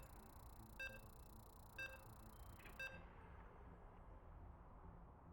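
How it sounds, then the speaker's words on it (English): StarCraft 2 game-loading beeps from a tournament match: three short, bright electronic tones spaced about a second apart over a faint background hum, with no talking. "You can hear the beeps."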